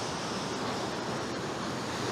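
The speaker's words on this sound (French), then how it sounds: "Ouh putain les vagues là, laisse tomber." Ocean waves break on rocks along a rocky fishing spot, a dense continuous roar of surf with wind rushing across the microphone, steady and fairly loud with no voices.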